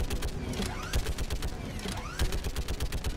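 Rapid bursts of gunfire in the sci-fi shooter Mass Effect 3, dense and loud, with repeated volleys and mechanical clatter, and rockets streaking through the battle.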